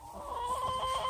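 Hens cluck softly in a backyard flock, a faint, steady burble of short calls over a steady background hum.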